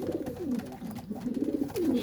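Flying pigeons, a batch offered for sale in Faisalabad, coo in repeated low, throaty rolling calls close by, several overlapping phrases swelling and fading across the short stretch with no talking.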